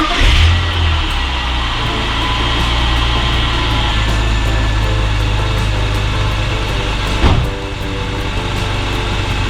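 A BMW car engine cranks and catches, then settles into a steady running idle close by, with a brief rev partway through and no talking.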